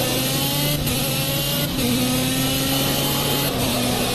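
Loud, sustained buzzing engine note of a 125cc shifter kart, close by, with a steady pitch that shifts slightly and rises in places, no talking.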